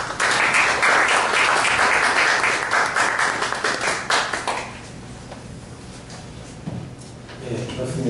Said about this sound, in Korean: 함께 큰 박수로 환영하도록 하겠습니다.